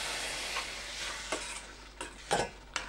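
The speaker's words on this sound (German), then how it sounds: "Jetzt kommt Grünkernschrot hinein und unsere Senfkörner. Einmal umrühren" Green spelt grits and mustard seeds are stirred in a pot, producing a soft continuous sizzle with several scraping sweeps of a spoon, growing louder toward the end.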